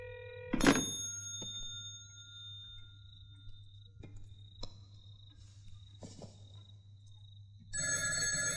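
A telephone rings indoors in a Hindi film scene, a faint repeated trill with quiet gaps and soft knocks between rings, ending in a louder burst of sound.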